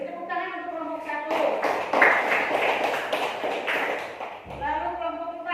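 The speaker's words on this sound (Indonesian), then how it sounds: "Beri tepuk tangan untuk kelompok 1." Applause breaks out for a student group after their presentation in a social studies classroom during teacher-training practice, a dense burst of clapping lasting about three seconds, with voices speaking just before and after.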